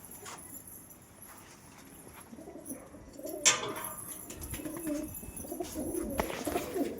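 Pet pigeons coo in soft, overlapping low phrases, joined midway by a sharp brief noise and busier rustling and movement, with no clear speech.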